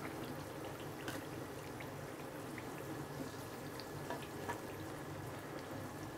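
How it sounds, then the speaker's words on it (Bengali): Snacks frying in oil until brown, a continuous bubbling sizzle with faint crackles and small pops, steady and close throughout with nobody talking. "এভাবে ব্রাউন করে ভেজে নেব, এগুলো খুবই ক্রিস্পি হবে।"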